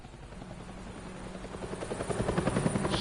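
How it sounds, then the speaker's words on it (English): A helicopter in the video game Batman: The Telltale Series gives a steady whirring drone that swells louder toward the end, with rhythmic rotor thumps becoming distinct. "Helicopter."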